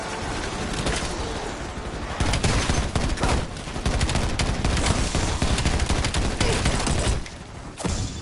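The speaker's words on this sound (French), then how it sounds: "Un arme en bleu, pistolet laser." Rapid, loud bursts of weapon fire from a laser pistol in Call of Duty Black Ops, dense rattling shots over several seconds with brief pauses, no talking.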